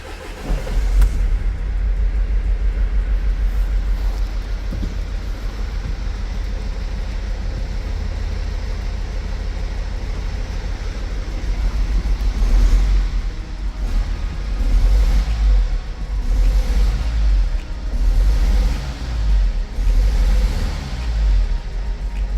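A Mercedes Sprinter van engine, just back together after an injector replacement, starts and settles into a steady low idle, then revs up in several uneven bursts; the rumble is loud and close.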